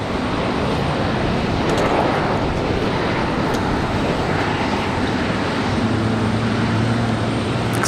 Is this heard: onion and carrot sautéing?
no